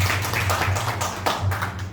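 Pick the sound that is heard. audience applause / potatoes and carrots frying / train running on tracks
audience applause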